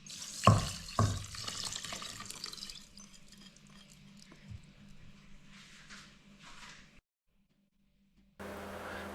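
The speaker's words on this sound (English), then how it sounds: "Rinse the rice 3 to 4 times until water is not murky anymore" Rice is rinsed in water for cooking, with splashing and swishing in a pot up close, a few drips, and a brief silence before a tap starts running steadily.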